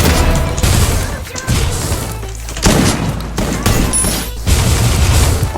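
Rapid bursts of gunfire and booming shots from the battle royale video game Free Fire, loud and dense throughout with brief lulls between volleys, while players talk over the action.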